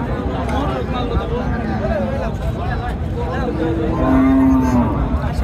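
Cows and heifers at a busy rural cattle market in Naogaon moo nearby, with one long low call rising late, over constant crowd chatter and people talking.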